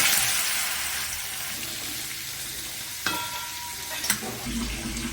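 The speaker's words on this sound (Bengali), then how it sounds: "তেলের ভেতরে ওলটা দিয়ে দিলাম ভাজার জন্য।" Chunks of elephant foot yam fry in hot oil with a dense, steady hiss that eases slightly, broken by two sharp clinks of a utensil near the end.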